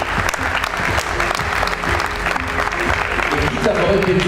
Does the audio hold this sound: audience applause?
yes